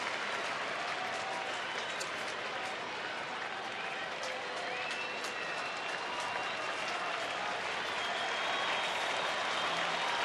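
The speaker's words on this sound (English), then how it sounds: "Crowd now getting behind Nathan and the Rangers." Baseball stadium crowd at a Mariners at Rangers game in Texas cheering and applauding, a dense, steady roar of clapping and voices that swells slightly toward the end.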